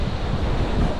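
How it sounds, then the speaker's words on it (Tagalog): Strong ocean waves surge and wash against the shore in a loud, continuous roar, mixed with heavy wind buffeting close to the microphone. "Kaya lang ngayon, medyo malalakas ang alon."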